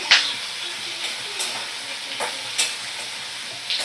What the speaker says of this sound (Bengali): এবার ভালো করে আমি বেগুন আর আলু ভাজা করে নেব।